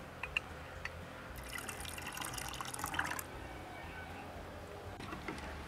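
Water is poured into a buttermilk drink for about two seconds as a soft, splashy fill with a few drips, faint and close, with no talk.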